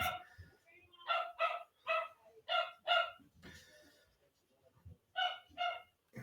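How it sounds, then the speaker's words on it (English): A dog barks in quick sharp bursts, several barks in a row, pausing briefly before another pair, fairly close with some faint background noise. "As my dog barks in the back."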